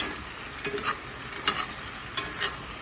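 Korean bulgogi sizzling in a pan, a steady bright hiss with repeated crackling pops and stirring scrapes, close and fairly loud, no talk.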